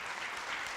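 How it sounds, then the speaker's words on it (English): A brief burst of steady applause, many hands clapping together in a dense, even wash of sound. "So you guys give my mom a round of applause"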